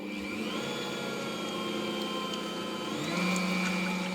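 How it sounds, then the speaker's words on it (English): Ankarsrum stand mixer with dough roller running on low while beating egg whites, a steady loud motor whine with a slight pitch shift partway through, continuous and close. "I start the mixer on low"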